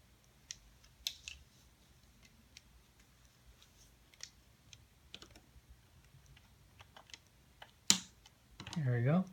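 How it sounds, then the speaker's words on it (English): Small metallic clicks and ticks from pliers pressing a C-clip onto a Hori arcade joystick during a Fanta stick conversion, scattered faint taps ending in a louder snap and a closing rustle. "I'm just going to use pliers."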